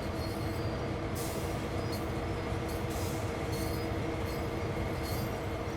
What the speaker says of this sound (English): There must be a train coming up through that junction.